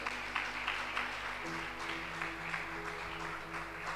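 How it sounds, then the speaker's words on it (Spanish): Faint congregation applause at a Spanish-language church service, soft steady clapping with a low background hum throughout. "déle un aplauso al Señor Jesús"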